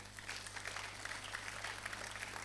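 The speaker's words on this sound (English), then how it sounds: "Would you clap for Nigeria?" Audience clapping in a hall at the opening of a poultry show, a steady, faint, distant wash of many hands with no talk over it.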